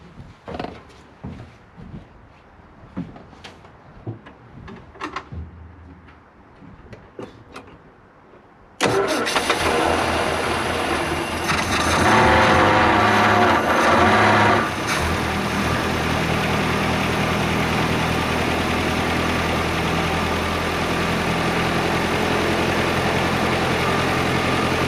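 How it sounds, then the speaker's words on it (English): An old Austin car engine starting on 11-year-old petrol: quiet fiddling first, then a sudden loud catch at about nine seconds, a brief rev, and a steady close idle running to the end. "that actually started up a hell of a lot better than I thought it would"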